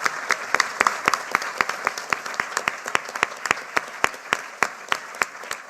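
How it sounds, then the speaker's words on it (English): Audience at a London marketing Q&A event applauds its guest speakers, a steady stream of sharp overlapping claps from a modest crowd, fairly close and sustained for several seconds without talk. "Big round of applause."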